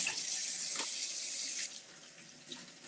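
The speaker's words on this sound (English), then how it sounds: "I'm just going to run some hot water in the sink" Hot water runs steadily from a tap into a kitchen sink, a close, bright hiss that drops slightly in level partway through, with a brief surge near the end.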